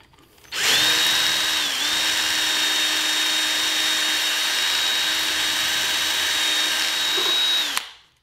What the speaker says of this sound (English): Okay, so we've drilled that out.